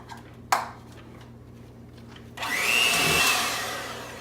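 A single clack sounds first, then an electric mixer whirs loudly into pumpkin cheesecake filling, a high whine that starts abruptly and keeps running steadily.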